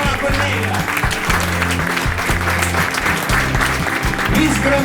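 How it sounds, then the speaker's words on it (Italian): Jurors at a beauty pageant applaud a colleague, steady clapping running throughout under a loud backdrop of pulsing dance music. "I giurati applaudono la collega."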